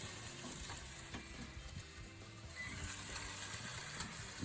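Potatoes wrapped in foil sizzle steadily on a cooker, a close, continuous crackling hiss with faint clicks and small pops throughout.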